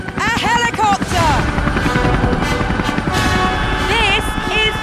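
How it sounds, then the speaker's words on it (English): A helicopter on a game show set thrums beneath loud, excited speech that dominates throughout, the rotor noise a steady low rumble behind the voices. "Because they're attached to a helicopter!"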